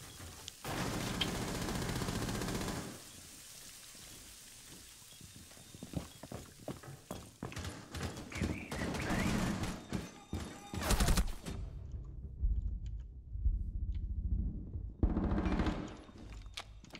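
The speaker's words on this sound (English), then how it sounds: "I took fire from somewhere, but I don't know where" Gunfire in the tactical shooter Rainbow Six Siege during a server-room breach defense: loud, irregular bursts of rapid shots crackle over a rumbling background, with a brief quieter lull before another dense flurry.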